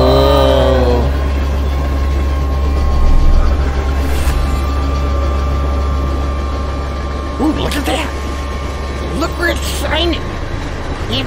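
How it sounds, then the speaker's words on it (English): A train rumbles along in the video game Oddworld Soulstorm, a loud steady low drone throughout with occasional clanks and bumps, while a voice talks over it. "Even though the train is bouncing around, the light stays right on."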